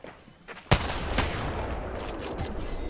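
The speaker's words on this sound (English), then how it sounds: "Shots fired, and they're hitting me" Gunfire in Apex Legends, with one sharp, loud shot followed by a denser burst of rapid reports and a sustained roar of game action.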